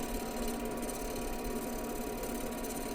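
A wood lathe spins a rectangular blank while a bowl gouge starts working toward the edges at slow speed, making a steady, continuous whirring hum with a dense mechanical drone and no talking.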